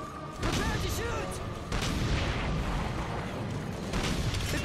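Weapons fire in Earth Defense Force 2025 against giant bugs, a dense continuous barrage of booms and blasts that holds steady throughout, with voices calling out under the din.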